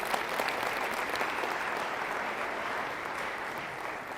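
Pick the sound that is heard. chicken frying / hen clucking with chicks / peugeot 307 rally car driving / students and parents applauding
students and parents applauding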